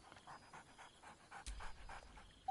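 Dog in the video game Baldur's Gate 3 panting in a steady rhythm, followed by a soft whine, fairly faint over a low game background.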